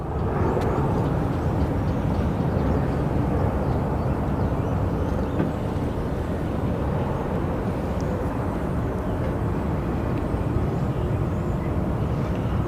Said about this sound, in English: We have SkyWest 3247 departing. It's a little CRJ.